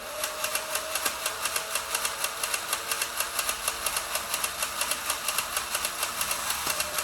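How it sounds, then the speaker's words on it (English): A battery-powered motor inside a rare original Rocket Man toy spins a cam, giving a steady, rapid mechanical ticking that repeats evenly and close up for several seconds with no voices. "if I do the other button on this remote, what it'll do is spin that cam there"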